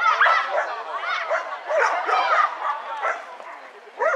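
A dog barks and yips repeatedly at close range in quick, uneven bursts, mixed with whiny, excited vocalizations and overlapping with people talking.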